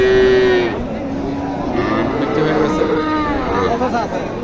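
Cattle moo loudly and close at a crowded rural cattle market in Dhamoirhat, Naogaon, with several drawn-out calls over a busy background of people chattering.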